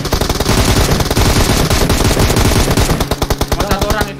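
Rapid automatic gunfire from PUBG Mobile gameplay, loud sustained bursts of shots followed by a run of separate single shots, with faint player voices underneath.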